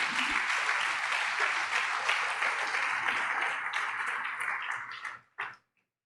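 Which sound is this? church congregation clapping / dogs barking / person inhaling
church congregation clapping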